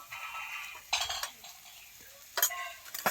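A spoon scrapes and clinks against a pan while onions with turmeric are stirred, making short bursts of stirring noise separated by quiet gaps, close and fairly soft, with no talking.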